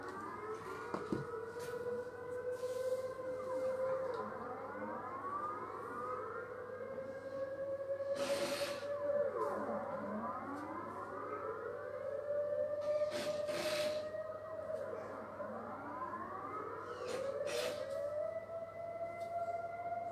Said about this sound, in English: So they are always, once a month, they test the sirens.